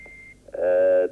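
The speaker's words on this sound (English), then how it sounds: "Let's see what messages are upon my answer phone" A 1980s answering machine gives a faint short tone, then a single steady electronic beep lasting about half a second, close and clear, before the messages play.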